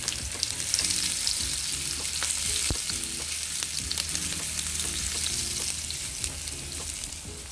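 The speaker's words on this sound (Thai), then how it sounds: "ทอดไส้กรอก แล้วก็อยากกินเห็ดเข็มทองด้วย" Sausages sizzle in hot oil for a mala hot pot, a steady dense frying hiss with stirring and utensil clinks throughout, close and continuous with no talking.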